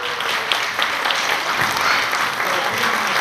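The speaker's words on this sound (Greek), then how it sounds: "Θα ήθελα ένα θερμό χειροκρότημα για αυτά τα παιδιά" An audience at a miniEURO 2013 press conference in Greece applauds the children, a steady, full round of clapping from a room of people that holds at an even level throughout.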